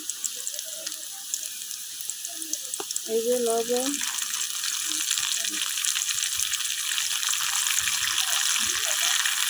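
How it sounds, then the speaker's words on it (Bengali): Onion sizzles steadily in a hot pan, a bright continuous frying hiss that persists throughout while someone talks briefly over it. "পেঁয়াজটা কিন্তু হালকা ভাজা হয়ে গেছে না"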